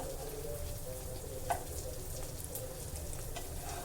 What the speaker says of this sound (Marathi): बोंबील फ्राय करताना मिडियम आचेवरच फ्राय करायचे आहे